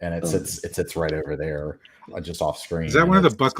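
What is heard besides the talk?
None of the usual background noises is heard.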